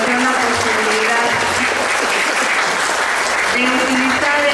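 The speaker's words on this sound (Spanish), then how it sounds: "Yo quisiera pedirle a la maestra que pasara por acá y darle un aplauso" Steady, dense applause from an indoor audience at an event honoring a teacher, continuous clapping with scattered voices beneath it.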